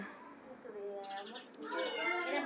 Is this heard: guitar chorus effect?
no